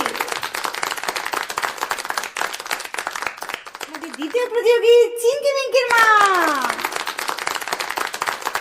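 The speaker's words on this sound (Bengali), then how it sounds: "জোরে জোরে হাততালি।" An audience claps at a saree fashion show competition. Patter-like clapping runs under an announcer's voice, and a high, rising vocal cry cuts in midway.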